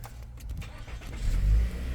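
A 2023 Mitsubishi Outlander LS Black Edition with a 2.5 litre engine starts by push-button, giving a short crank and a low rising rumble heard close from inside the cabin.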